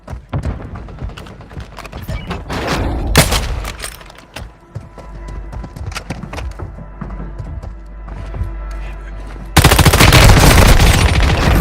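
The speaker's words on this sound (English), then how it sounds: "Stun grenade out." Gunfire and a stun grenade in the Warzone Mobile video game: scattered shots and bursts of automatic fire with mechanical clatter, building to a loud sustained blast near the end.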